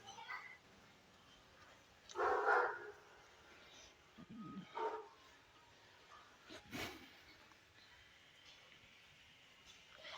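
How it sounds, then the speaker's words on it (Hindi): Dogs bark in a few short bursts in the background of an indoor Hindi science lecture on motion, fairly faint and intermittent beneath a teacher's steady talking. "थोड़ा सा कुत्ते भौंक रहे हैं,"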